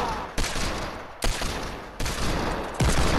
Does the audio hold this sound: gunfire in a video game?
yes